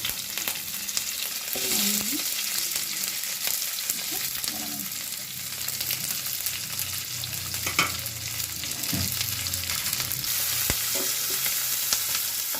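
Curry leaves and onions frying in a pan for a honagane soppu palya, a continuous loud sizzle with occasional stirring scrapes and spatula knocks, no speech.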